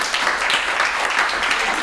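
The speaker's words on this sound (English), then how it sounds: "A big round of applause for you." An audience at an EU event in Zagreb claps in a short, steady burst of applause, many hands at once, moderately loud and even throughout.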